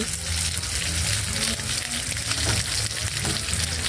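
Shrimp stirred into a simmering pot of sinigang, a Filipino sour soup, giving a steady close sizzling and bubbling with faint stirring scrapes throughout, no talk.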